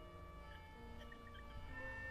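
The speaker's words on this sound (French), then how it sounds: "L'ambulance arrive." An ambulance siren wails faintly in the distance with steady tonal notes, heard alone without talk at a rescue scene.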